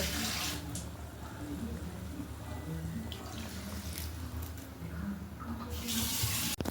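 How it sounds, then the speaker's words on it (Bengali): Water pours steadily into a pot of spicy Bengali crab curry, a continuous splashing rush that runs close and fairly loud throughout, with no talk over it. "একটু বেশি করেই জল দেবো, এটা ঝোলটা খেতে ভালো লাগে।"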